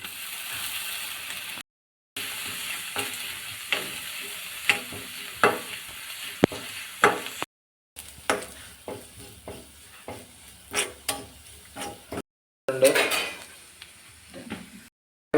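Fenugreek and grated coconut frying in a pan for an Onam curry, with repeated scraping stirs over a steady sizzle and a few brief silent breaks.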